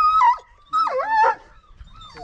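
A dog whimpers in short, high, wavering whines, then gives a yip and a bark, close and fairly loud, with brief pauses between the outbursts.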